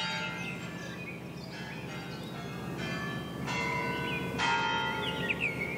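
A church bell rings at dawn in Santa Cruz de Tenerife, several resonant strikes ringing out over a low ambient hum, with faint birds chirping in the background.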